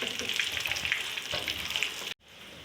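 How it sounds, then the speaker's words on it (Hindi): Beef kababs fry in a pan of oil, a dense crackling sizzle with popping bursts that continues close and steady, then cuts off abruptly and returns as a quieter hiss. "कबाब फ्राई हो गए"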